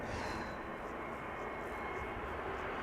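A JetBlue A321neo arriving at Amsterdam Schiphol from Boston passes as a faint, steady engine rush with broad hiss, distant and unbroken for a few seconds.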